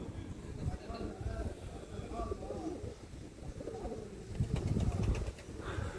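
Soft pigeon coos repeat in the background under a voice talking, with faint rustling and flapping nearby.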